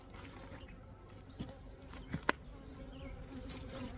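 Honeybees buzzing around a hive while it is being split, a faint, steady drone with a few brief knocks and taps close by.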